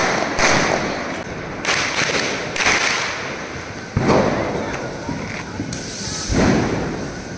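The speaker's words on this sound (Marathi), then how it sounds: "फटाके फोडते." Firecrackers burst one after another during a family Diwali celebration outdoors, a string of loud sharp bangs and thumps with crackling tails spaced a second or so apart, sometimes with voices faintly in the background.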